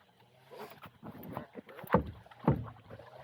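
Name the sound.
paddling a boat with a bent paddle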